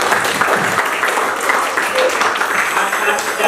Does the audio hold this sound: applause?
yes